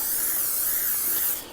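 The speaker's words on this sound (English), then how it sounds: "I'm going to spray all the edges" Cooking spray hisses steadily onto the edges of a jelly roll pan in one continuous burst of about a second and a half, then trails off, close and alone.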